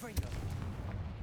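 Confringo fire spell cast in the Hogwarts Legacy video game, a sharp blast with a low thump followed by a rumbling burst under continuous game noise.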